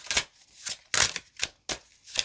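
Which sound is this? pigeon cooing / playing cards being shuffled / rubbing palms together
playing cards being shuffled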